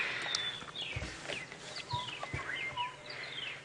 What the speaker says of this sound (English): the loudest bird you will be hearing is a southern boo-boo